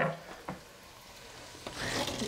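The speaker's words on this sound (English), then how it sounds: "the onion is getting sauteed" Chopped onion sautés in a pan for a Persian meat stew, giving a faint, steady sizzle with a few soft stirring clicks near the start and end.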